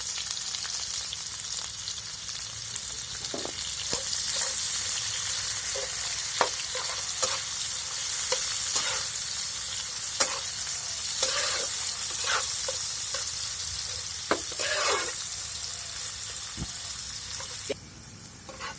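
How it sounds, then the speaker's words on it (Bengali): Chopped onions with bay leaf fry in a pan for chicken biryani, giving a steady loud sizzle broken by repeated scraping stirs of a spoon, with nobody talking. "পেঁয়াজগুলোকে হালকা করে ভেজে নেব আমি"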